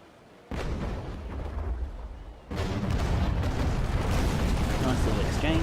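Cannon broadsides roar from a sailing warship's forward guns in a naval battle game, starting as a brief lull and then becoming a dense, continuous rumble of heavy gunfire that swells louder partway through.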